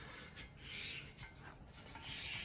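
Close, quiet rubbing of an abrasive pad scrubbing back the clear coat on a raw steel frame from a 2000 YZ250 motorcycle build, in a few rhythmic back-and-forth strokes.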